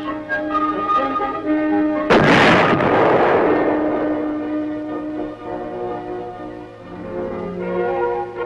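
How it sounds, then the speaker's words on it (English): Tank main gun fires once during a weapons test at the Aberdeen proving ground: a single loud, sharp blast at about two seconds, its broad roar decaying over several seconds amid steady mechanical hum, with no talk. "as the projectile leaves the muzzle and the weapon recoils"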